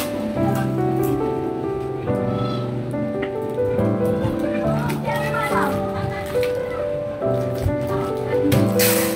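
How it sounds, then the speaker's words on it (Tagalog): A group of children play noisily outdoors, their shouts and chatter forming a constant lively background with occasional sharp knocks, heard from indoors at moderate loudness. "Ingay sa labas ng mga bata."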